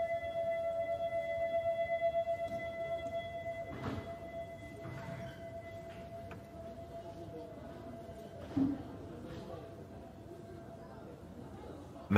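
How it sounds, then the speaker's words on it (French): A sustained Venice acqua alta flood warning siren tone holds steady at moderate distance, with faint thuds and background noise underneath and no speech. "Donc ils appellent ça la sirène, et ça commence par un si et un ré."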